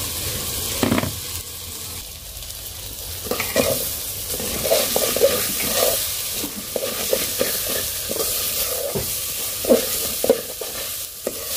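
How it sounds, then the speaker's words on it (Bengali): Rice fries for pulao in a kadai while a spoon scrapes and stirs it in irregular strokes, with a soft sizzle underneath and occasional clinks of metal against the pan. "কড়াইতে কিন্তু চালটা ভাজা ভালো হয়, এই জন্য তো আজকে একটু নাড়তে কষ্ট হচ্ছে"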